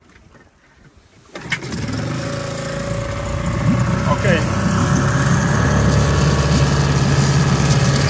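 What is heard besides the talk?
pull-starting outboard engine of Beneteau First 21.7 yacht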